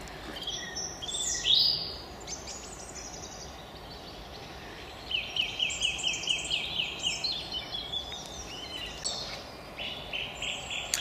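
A song thrush and blackbirds sing along a brook on a wooded estate nature trail, with faint, distant phrases and a run of quick repeated notes rising over soft outdoor ambience.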